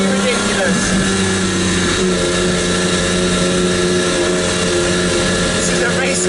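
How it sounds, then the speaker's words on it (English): A Maserati MC12 race car runs on a public road through a small town, its engine note loud and sustained with dense harmonic drone and whine from start to finish, no pauses. "This is a race car on the road with number plates and a noise like this."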